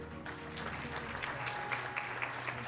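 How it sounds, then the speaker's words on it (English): A welcoming round of applause from an audience at a restaurant leaders panel event, fairly quiet and continuous with scattered sharper claps, a steady muted tone underneath. "Let's give them a round of applause."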